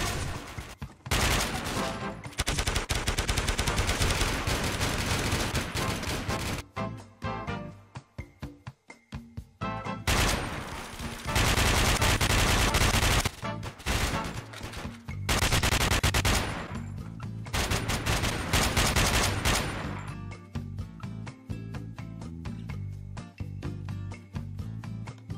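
SMG gunfire in a Counter-Strike style first-person shooter video game, with loud sustained automatic bursts and rapid fusillades broken by short pauses over about twenty-five seconds.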